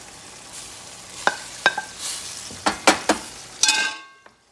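Steak goes into a pan of sizzling tomato stew for Sicilian-style steak pizzaiola, giving a steady loud frying hiss broken by several sharp clanks and scrapes of a utensil against the pan, then a sudden stop.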